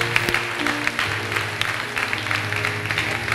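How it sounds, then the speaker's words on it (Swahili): A church congregation claps for Jesus during a service, a dense, steady patter of many hands under a sustained musical hum. "Makofi mengi kwa Yesu aliye hai."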